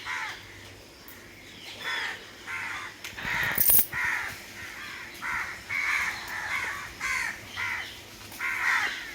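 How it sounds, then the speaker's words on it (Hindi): Many crows caw over and over from a fruit tree in an irregular chorus, harsh calls from several birds, with a brief clatter partway through. "और बहुत सारे कौवे आके बैठ रहे हैं पेड़ के ऊपर।"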